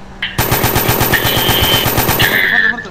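Rapid machine-gun fire from the video game MTA DayZ, a loud sustained burst of evenly spaced shots lasting over two seconds after a brief lead-in, with whirring game tones layered on top.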